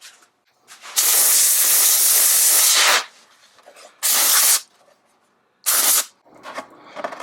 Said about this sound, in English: Compressed air will be helpful.